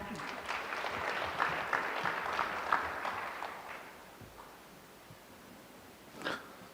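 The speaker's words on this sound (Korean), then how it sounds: "큰 박수 부탁드립니다." A forum audience at a Korean education data and AI event claps for about four seconds. The applause is faint and distant, then fades out, followed by a brief soft noise.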